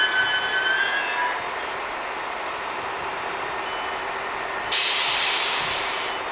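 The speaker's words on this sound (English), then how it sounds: "there's the Ottawa train coming in" An Ottawa O-Train on the Trillium Line pulls into a station at night with a rolling rail hiss and a high-pitched tonal whine, then a steady loud electronic chime or beep tone starts near the end; no voices.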